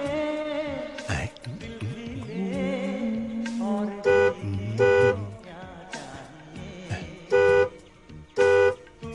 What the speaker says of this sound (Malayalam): ഹോൺ അടിക്കുന്ന കേട്ടില്ലേ